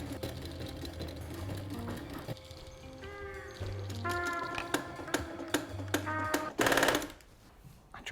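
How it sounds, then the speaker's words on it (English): A treadle sewing machine stitches a leather bag with a steady mechanical whir and rapid ticking, interrupted by pauses and harsh bursts. Near the end a louder clattering surge breaks in, and scattered voices are heard. "I think I broke the sewing machine."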